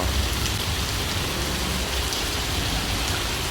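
Heavy rain pours steadily outdoors, a dense, loud, continuous hiss of drops hitting surfaces with no pauses and no voices over it.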